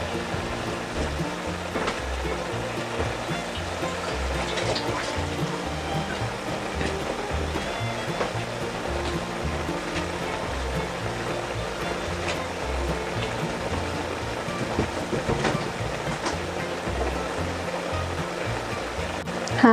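Squid adobo simmering in a pan after vinegar is poured in, a steady bubbling sizzle with scattered small pops, continuous and moderately loud with no talking.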